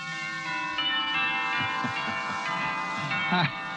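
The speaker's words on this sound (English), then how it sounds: "Wedding bells." Wedding bells peal in a radio comedy sound effect, several bright chiming bell strokes ringing and overlapping with sustained resonant tones, heard alone at moderate loudness.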